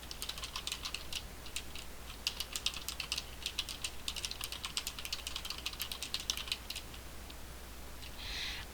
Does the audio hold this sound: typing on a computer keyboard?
yes